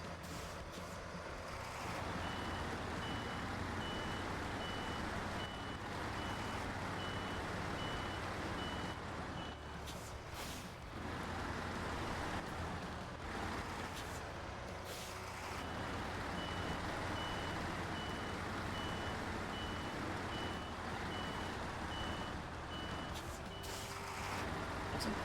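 Video game truck turning around, steady loud engine drone with repeated reversing beeps and occasional air-brake hiss, the engine note shifting as the truck maneuvers.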